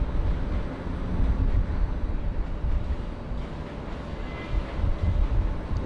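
A jet airliner taxiing at Bangkok airport gives a steady, loud low engine rumble that holds evenly throughout, heard from nearby outdoors with no speech.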